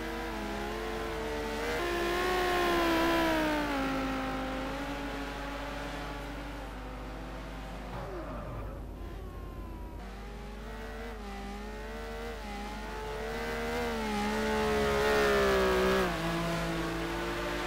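A Lamborghini race car in a sim racing game drones on a steady, strained engine note that rises and falls through the gears, with a dip and a brief squeal midway before the revs climb again.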